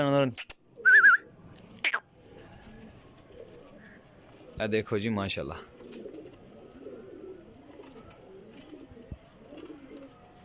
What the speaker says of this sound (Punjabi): ਕਿੱਡਾ ਕਬੂਤਰ ਹੈ, ਯਕੀਨ ਕਰ, ਹੈ ਨਾ ਲੱਖ ਰੁਪਏ ਦਾ ਕਬੂਤਰ।